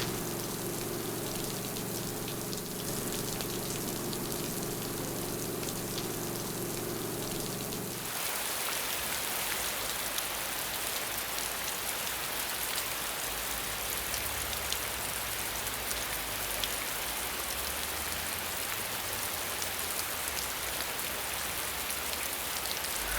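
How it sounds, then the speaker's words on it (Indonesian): Heavy rain pours in a steady, dense roar that grows broader and louder partway through, with faint music-like tones underneath at first. "hari ini hamba mohon, tolong kurangi derasnya hujan ini"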